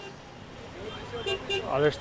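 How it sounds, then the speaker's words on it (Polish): Car horns toot in a jammed city street in Chimbote, Peru, with taxis among the traffic; a few short honks rise over the road noise near the end while someone talks throughout. "Zakorkowane miasto, klaksony, taksówki."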